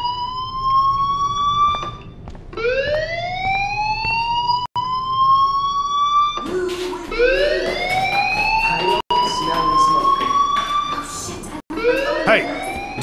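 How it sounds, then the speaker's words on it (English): Wailing electronic fire alarm from the video game Life Is Strange, rising sweeps repeating steadily and loudly, with a few brief dropouts and faint game sounds underneath. "Hey, do you hear that fire alarm? That means you should be outside."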